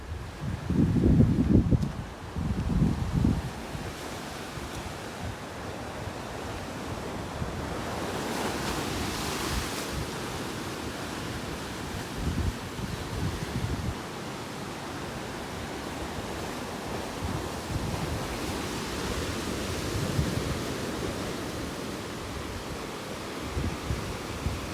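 Ocean waves roll onto a rocky beach on Maui along the road to Hāna, a broad continuous roar with a louder surge and wash early on, wind buffeting the microphone, no voices.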